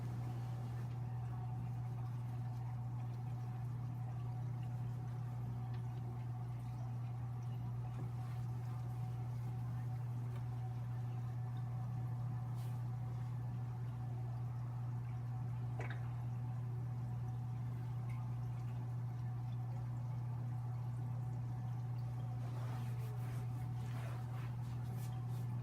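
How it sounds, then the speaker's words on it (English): Steady low hum of water flowing through an aquarium chaeto reactor into a sump, a constant drone with faint trickles and drips over about twenty-five seconds, no voices. "Now I know I have water running through that reactor"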